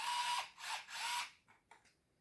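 Small screws driven back into the battery casing of a Windbird unit: three short, whirring mechanical bursts close up, then a few faint clicks, with no talking.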